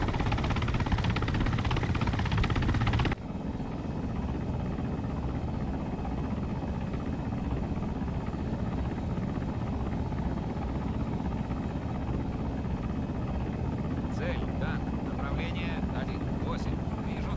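A Mi-28 attack helicopter in the ARMA 3 military game gives a loud, constant rotor and engine roar that changes abruptly early on, then holds steady under someone narrating.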